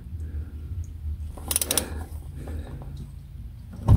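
Quick metallic ratcheting clicks from a ratchet wrench loosening a car's plastic oil drain plug burst out in a short run midway, over a low steady hum and faint handling noises, ending with a soft thump.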